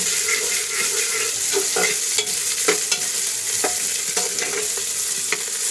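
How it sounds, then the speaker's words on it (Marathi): Finely chopped onion fries with cumin in hot oil, giving a loud steady sizzle close up, with frequent stirring scrapes and clicks over the continuous hiss. "तेल छानपैकी गरम झालं की त्यामध्ये पाव चमचा जिरं फुलल्यानंतर एक कांदा घालू बारीक चिरून."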